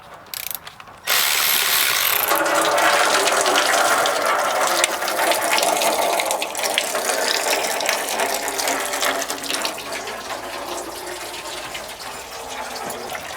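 Fluid pours out steadily from the loosened transmission pan of a Ford F150's 6R80 automatic, a loud, close, continuous gushing and splashing that follows a brief clatter and gradually thins toward the end.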